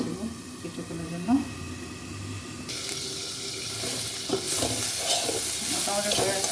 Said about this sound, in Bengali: এই শাকটা একটু সময় নিয়ে ভাজতে হবে